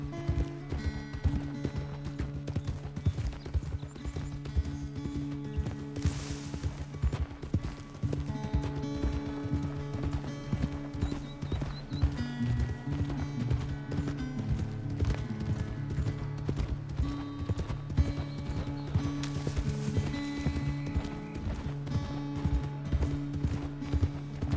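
A horse gallops in Red Dead Redemption 2, its rapid rhythmic hoofbeats pounding steadily under a continuous music score, with a couple of brief whooshing bursts.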